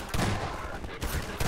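Shotgun blasts in Half-Life 2, with two loud broadband bursts about a second apart over dense, continuous game noise.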